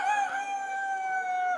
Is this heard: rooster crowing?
yes